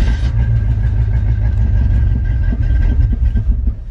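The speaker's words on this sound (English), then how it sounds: "So this will be a first true cold start." A 1968 Ford Mustang Fastback engine on a cold start rumbles loud and close with a deep, uneven idle, easing off at the very end.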